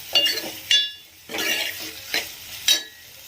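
Onions fry with curry leaves in a pan for goat head curry, with several quick spoon-stirring scrapes and a faint sizzle between the strokes.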